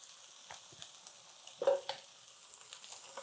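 Oyster pancakes (gul-jeon) frying in oil in a pan, a faint, thin sizzle broken by small pops and scraping taps, no voices.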